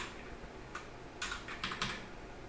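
A few quiet keystrokes on a computer keyboard while C# code is entered, short clusters of soft clicks over low background hiss, with no talking.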